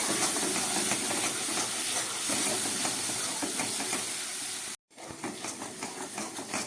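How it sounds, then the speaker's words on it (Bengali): Spice masala for egg curry sizzling and frying in oil in a pan over low heat, a steady, close hiss that runs continuously, broken by one brief silent gap near the end before resuming. "গ্যাসটা একদম লোয়ে দিয়ে আমি আরও 1 মিনিট মতো মশলাগুলোকে ভালো করে কষিয়ে নিলাম।"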